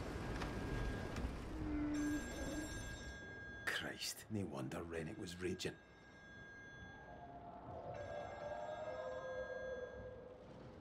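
A telephone rings in the horror game Still Wakes The Deep, a steady electronic ring sounding in two spells with a burst of speech in between, over low rumbling ambience.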